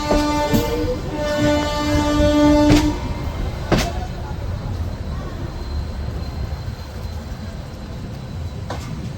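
Passenger train travelling to Puri, a steady mid-level rumble of moving carriages with a few sharp tonal squeals and clanks early on, and faint voices in the background.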